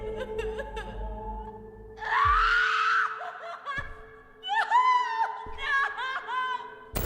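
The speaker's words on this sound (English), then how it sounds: "As you leave, you can hear Amelia's gut-wrenching screams." A woman screams and cries out in a horror video game, her shrill anguished voice rising and breaking in several bursts over a low hum.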